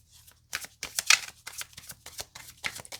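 A deck of tarot cards is shuffled by hand up close, a run of quick papery riffles and soft slaps in an uneven rhythm with brief pauses between bursts.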